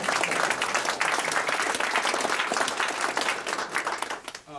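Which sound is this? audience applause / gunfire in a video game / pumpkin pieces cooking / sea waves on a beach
audience applause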